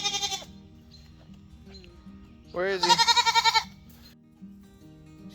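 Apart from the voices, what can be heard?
goats bleating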